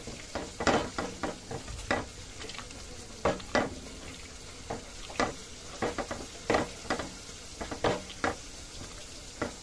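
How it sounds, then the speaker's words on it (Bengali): Food being mixed with sauce by hand in a Bengali home kitchen, a series of soft, irregular wet squelches and stirring strokes, close and fairly quiet, with no talking. "দিয়ে দেবো একটু সস খুব ভালো করে এটা মেখে নেব"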